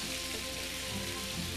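Starch-coated beef pan-frying over medium-high heat gives a steady, even sizzle close by, with no talk.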